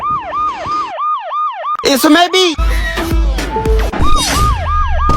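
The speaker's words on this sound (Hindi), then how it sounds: "AC में सायरन कौन लगाता है?" A wailing siren sound effect plays from an air conditioner in a comedy sketch, loud and close with repeated rising-falling whoops, cut by a brief gap and chaotic effects, with a voice speaking over it.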